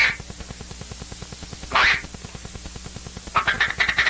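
A person imitates duck quacks with a duck call, as used by hunters to lure ducks in: two short quacking bursts, one near the middle and a rapid run of quacks at the end, over a steady low hum.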